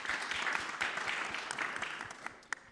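Audience applause for a speaker at a COP28 industrial decarbonisation forum: a fairly faint, even wash of clapping from a crowd in a hall, thinning toward the end with a few isolated claps.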